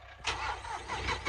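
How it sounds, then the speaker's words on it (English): A John Deere tractor engine cranks and catches, then settles into a steady low rumble, close by and moderately loud. "having a tractor that starts every time"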